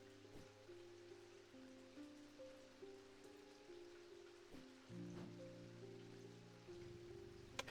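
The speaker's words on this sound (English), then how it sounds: "It continues to rain." Rain in the video game Strange Antiquities patters softly and continuously beneath sustained ambient musical tones, faint and steady throughout.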